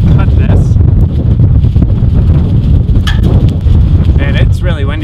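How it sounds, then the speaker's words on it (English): Heavy wind buffeting the microphone with a loud, constant low rumble, with occasional clicks and handling noises. "it's really windy out here"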